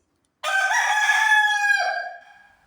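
A rooster gives a single loud, close crow, a long drawn-out cock-a-doodle-doo that rises and then trails off, with nothing else heard.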